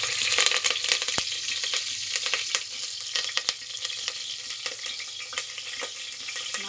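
Curry leaves sizzle and crackle in hot oil, a dense, close frying hiss broken by sharp pops and spatters, with no voices.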